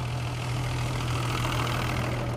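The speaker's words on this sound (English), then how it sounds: "Classic tractors hit the road." Classic tractor engine running steadily on a Nebraska highway during a tractor relay parade at about 11 miles an hour, a continuous low idling drone with an even, unbroken loudness throughout.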